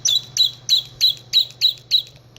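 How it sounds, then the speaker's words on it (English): A bird sings a repeated shrill chirping call, seven sharp notes in a steady rhythm, close and clear with no voices over it. "Demonic bird."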